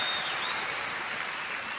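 An audience clapping at a live event in Wembley Arena, a dense, even wash of applause from a large crowd that holds steady, then tapers off slightly, heard from a distance.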